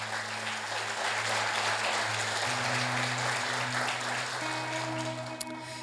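Church congregation applauding loudly during a worship service, a steady wash of clapping from many people with sustained musical tones playing underneath throughout.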